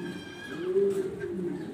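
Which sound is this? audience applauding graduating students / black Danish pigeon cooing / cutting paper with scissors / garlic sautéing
black Danish pigeon cooing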